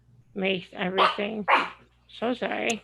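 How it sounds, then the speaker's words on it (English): A pet dog barks several times in quick bursts nearby, loud and sharp, overlapping with a person speaking indoors during a conversation. "And that's my dog."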